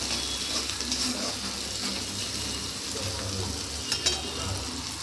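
Salted food stirred and frying in a pan, giving a dense, steady hiss of oil with occasional soft scraping, close and even throughout.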